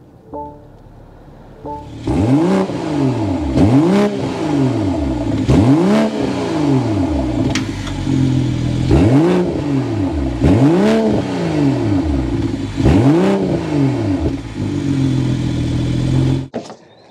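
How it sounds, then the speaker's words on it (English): A 2024 BMW M440i convertible's twin-scroll turbocharged inline-six starts up, then revs repeatedly in six sharp rising-and-falling blips, loud and close, before cutting off at the end. "start up this inline six so you can hear that exhaust note"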